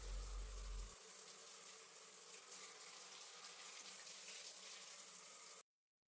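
Tap water runs steadily into a bathroom during cleaning after a leak repair, a continuous hiss with a low burst at the start, then cutting off abruptly near the end.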